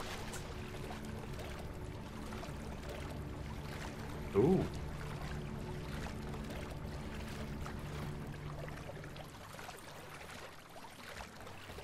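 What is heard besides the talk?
flowing water in video game Final Fantasy VII Rebirth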